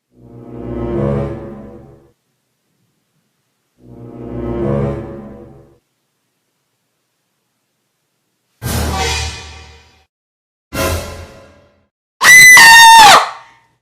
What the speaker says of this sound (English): Gordon ran off, screaming into the night, his trucks following behind